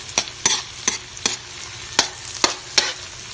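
Onions sizzling in a hot pan while cooking buttered shrimp: a steady frying hiss broken by seven sharp clacks of a utensil stirring against the pan at an uneven pace, close and clear.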